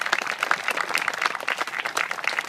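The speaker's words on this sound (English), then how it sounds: "About one more round of applause for our VFW." A crowd gives steady applause at a September 11 memorial ceremony honouring the VFW, dense clapping that continues evenly throughout.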